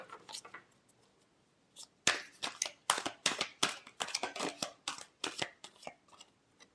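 Tarot cards shuffled by hand in a run of quick crisp riffling flicks, a few faint ones first, then a dense rapid burst of sharp papery snaps up close with no talking.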